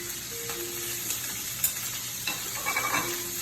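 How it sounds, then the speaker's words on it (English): Shrimp searing in smoking-hot olive oil in a skillet, a steady broadband sizzle with occasional stirring scrapes and small pops, close and moderately loud, no voices. "You want to see some smoke on here because you want a really good sear on these shrimp."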